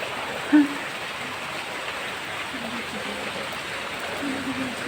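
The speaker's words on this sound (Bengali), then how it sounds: "পুরো জল যাচ্ছে দেখো ওখান থেকে।" Floodwater runs along a waterlogged street after heavy rain, making a continuous broad rushing wash. It is steady and fairly loud, with one brief bump near the start.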